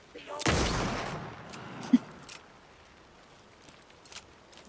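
A single loud rifle shot in the survival horror game Alan Wake II, a sharp close blast that decays into a rumble, followed by a few faint clicks and thuds.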